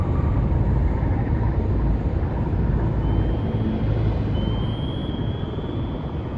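Aircraft in the naval game Cold Waters, set in the Sea of Japan around a destroyer, giving a steady loud engine drone and rumble that holds evenly throughout with a faint rising whine near the end.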